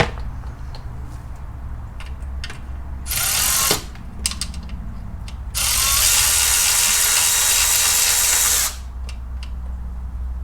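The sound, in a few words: ratchet removing last bolt on Porsche Boxster transmission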